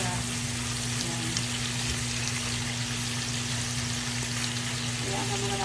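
Meat browning in a hot pan before any liquid or broth is added, giving a steady, fairly loud sizzle and crackle that runs throughout with a constant background hum.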